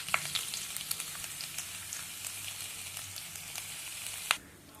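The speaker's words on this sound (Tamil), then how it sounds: "பெரிய வெங்காயம் நறுக்கி வச்சுருக்கேன் நீளமாக, அதை சேர்த்துக்கலாம்" Steady sizzle of onions and spices frying in hot oil, with a few soft crackles and pops and a brief clatter near the end.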